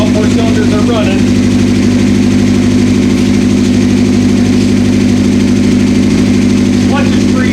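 A 1984 Honda CB700SC motorcycle engine runs on all four cylinders, a loud, steady, close idle with an even droning hum that holds throughout.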